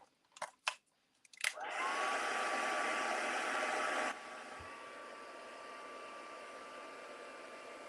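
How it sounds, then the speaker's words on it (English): A heat gun starts after a few clicks and blows a steady, loud hiss while melting silver heat embossing powder for candle stamping, then drops to a lower, quieter setting and keeps running to the end. "All right, now I'm just going to heat that."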